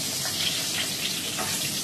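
Eggplant slices fry in a pan of hot oil, giving a steady close-up sizzle with fine crackling throughout, with no voices.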